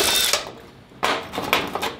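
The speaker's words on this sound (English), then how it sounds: "these can do with the impact because these are just the hood hinges" An impact wrench removes the hood hinges from a fire-damaged 1977 Ford F250, giving two short, close mechanical rattling bursts separated by a brief pause, with no talking.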